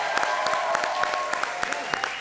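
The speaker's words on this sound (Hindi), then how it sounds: "परेश जी के लिए एक बार जोरदार तालियां" A studio audience at a Hindi comedy show claps for a guest, brisk sharp applause with distinct individual claps audible throughout the short burst.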